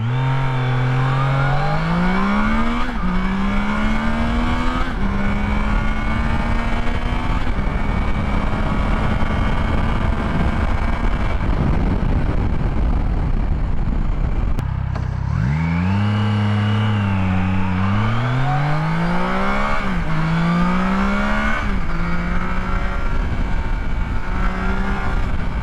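A 2022 Triumph Tiger Sport 660 motorcycle accelerates hard through several gears, its engine note climbing and dropping at each shift, loud and steady with no talking.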